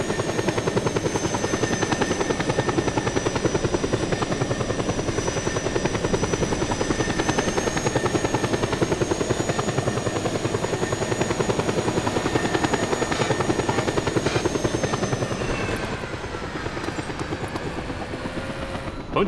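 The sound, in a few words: helicopter flying in video game Just Cause 2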